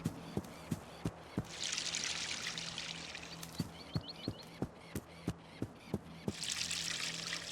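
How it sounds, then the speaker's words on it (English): Water pouring onto a holly plant in a garden, a steady trickling stream with two louder splashy bursts, close by and punctuated by regular sharp ticking clicks; no talk. "let's water the holly"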